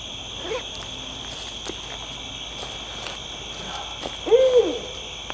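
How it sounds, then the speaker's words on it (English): An owl hoots once at night, a short low call that rises clearly above the background near the end, heard against steady cricket and insect chirping and faint rustling. "Is that an owl? That might be."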